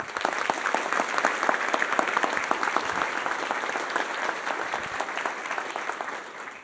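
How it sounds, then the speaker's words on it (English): Steady, dense applause from an audience at a University of North Dakota State of the University address, filling the whole stretch at an even level before easing slightly at the end. "So to Merity and all of your colleagues, how about a round of applause?"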